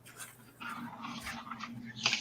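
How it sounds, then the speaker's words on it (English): Dogs, including a beagle, whining as their owner comes home: short, high, nasal whimpers and snuffling pants, close and fairly quiet, with faint room noise. "Daddy's home, so the dogs are whining"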